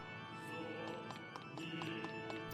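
Horses in the Fire Emblem Echoes video game, with steady hoof clip-clops and intermittent whinnies over a continuous game music bed, close and clear, with no speech.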